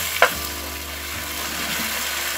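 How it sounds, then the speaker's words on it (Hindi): Tomato sauce goes into a pan of sizzling chicken chilli, giving a brief clink, then a steady, moderately close frying hiss continues alone. "अब हम इसमें डालेंगे ये टमाटो सॉस"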